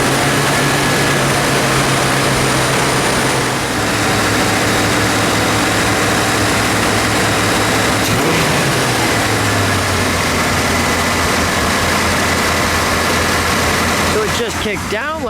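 A 1957 Dodge Coronet Custom Royal Lancer D500 convertible engine runs loud and close at a steady idle, with a brief rev swell partway through and another rise near the end.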